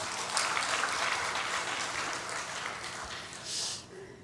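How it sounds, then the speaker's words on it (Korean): A church congregation claps together, a broad dense wash of applause that holds steady for a few seconds, then swells briefly near the end before tapering off. "박수하겠습니다."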